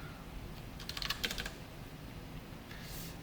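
A short flurry of clicking keystrokes on a computer keyboard while CSS code is being written, a quick cluster of taps followed by a few more after a brief pause, close and fairly quiet.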